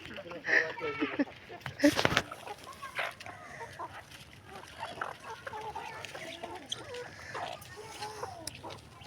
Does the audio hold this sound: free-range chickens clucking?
yes